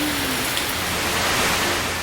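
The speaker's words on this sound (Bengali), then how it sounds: "কি জোরে পড়ছে বৃষ্টি" Heavy rain pours steadily outdoors at night, a dense, continuous hiss of drops close by with no let-up and no voices.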